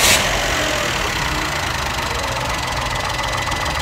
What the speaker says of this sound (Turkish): Montajını sağladık egzozun ve çalıştırıp sesini dinleyelim.